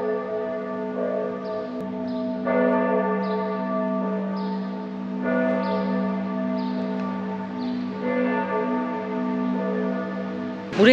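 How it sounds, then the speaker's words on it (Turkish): A church bell in Florence, Italy tolls in slow, regular strokes, each ringing out and lingering over the next, loud and resonant with no voices. "Çan çalıyor."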